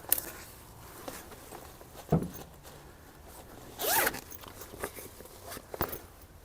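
A zipper pull on a bag pulled from the trash being handled, a few short rasping zips and rustles amid handling noises, close and fairly quiet.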